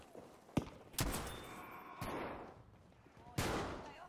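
Gunfire in Battlefield 5 rings out in a few sharp, loud shots spaced irregularly over a steady, rumbling battlefield din.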